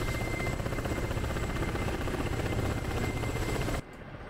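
Ka-50 Black Shark attack helicopter in the DCS flight simulator, a loud steady rotor and turbine drone at altitude that holds for about four seconds before dropping sharply quieter.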